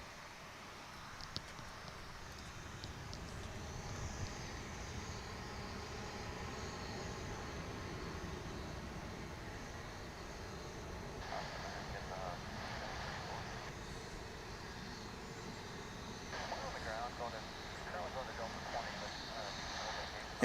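A plane beginning its takeoff roll down runway 18 left at DFW airport, a steady distant engine roar lasting throughout, with a voice talking over it.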